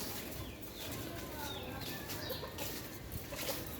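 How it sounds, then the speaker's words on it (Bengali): A rooster clucks faintly and intermittently in the distance on a cool, rainy day, a quiet sound against soft background noise. "এইটা মোরগ চিনি,"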